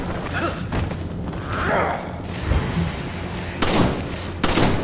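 Gunfire in the video game Resident Evil 5, several dense bursts of shots over a loud, busy game soundtrack, with distinct sharp reports near the end.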